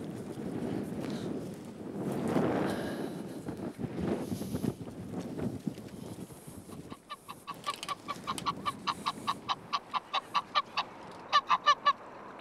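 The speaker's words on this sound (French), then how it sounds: "Ce sont des oies d'élevage," Farmed geese, some of them crossbreeds, honking in a marsh during waterfowl hunting preparations, their rhythmic, fairly close calls repeating steadily over a busy background of rustling and handling noise.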